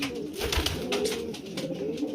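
Stock pigeons coo steadily in a loft, a close, low, rolling murmur that continues throughout without speech.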